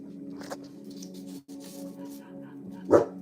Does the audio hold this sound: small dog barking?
yes